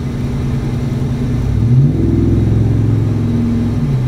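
A Ford Raptor pickup's engine drones loud and close while driving, its low hum rising in pitch as the truck accelerates through a shift, then holding steady, with no talking.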